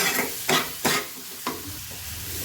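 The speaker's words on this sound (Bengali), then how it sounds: "লঙ্কা গুঁড়ো দিয়ে এবার নেড়ে ফেলে মশলাটাকে ভালো করে একটু কষিয়ে নেব।" Turmeric and chili powder spices sizzle in a pan as they are stirred and fried, with a few sharp scraping strokes of the spoon over a soft, steady frying hiss, close and alone.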